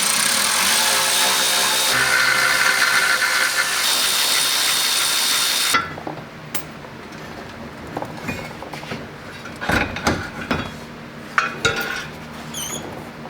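A power tool whirs continuously for several seconds while taking 13mm bolts out of a C6 Corvette radiator support, then cuts off, followed by clinks and handling sounds of tools and parts.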